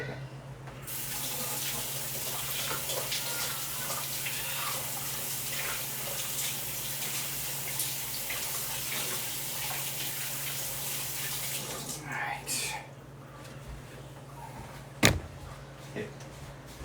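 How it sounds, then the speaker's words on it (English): Tap water runs steadily into a sink while hands are rinsed, a close continuous splashing hiss that stops near the end, followed by a faint knock. "one last time rinsing my hand"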